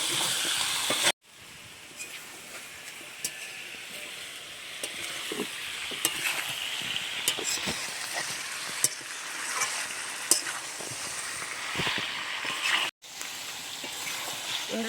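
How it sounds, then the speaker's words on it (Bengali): Meat sizzles with spices in a pan while being stirred for a Bengali kosha mangsho, a loud, steady frying hiss broken by frequent spatula scrapes and stirring knocks, with two brief silent cuts. "এবারে বেশ সুন্দর করে মাংস মশলার সাথে মিশিয়ে নেব বেশ সুন্দর করে এবারে কষে নেব"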